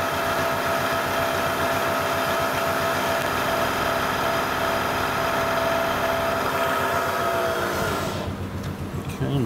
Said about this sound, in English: let's fire up the mill here